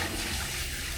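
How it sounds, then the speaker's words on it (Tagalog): Beef innards for papaitan rinsed under a steady stream of running tap water, a continuous close splashing wash with no talking. "Igasan lang natin hanggang sa luminaw ang tubig"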